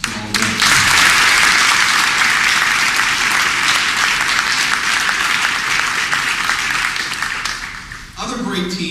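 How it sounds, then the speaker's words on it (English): Audience applause at the St. Louis mayor's 2007 State of the City speech, sustained loud clapping from a large crowd lasting several seconds before the speaker resumes talking. "I hope you will join me in a round of applause for all of them."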